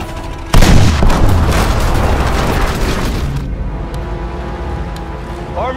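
Bombing and anti-aircraft fire in Call of Duty WWII: a loud blast hits sharply, then a dense, continuous rumble of explosions and flak bursts rolls on for about three seconds before easing into a quieter low drone.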